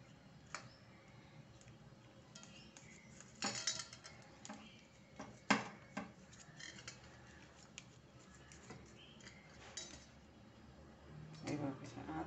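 Knife cutting cooled, steamed ragi (finger millet) muthia rolls into pieces, heard as scattered soft ticks and taps of the blade on a board, with a few sharper knocks, faint and intermittent under a quiet room background.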